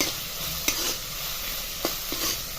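Grated fresh coconut being stirred and sautéed in a pan, a soft continuous sizzle with a few faint scraping taps of the spoon, close and quiet with no talking.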